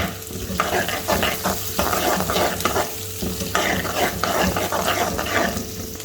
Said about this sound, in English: And saute them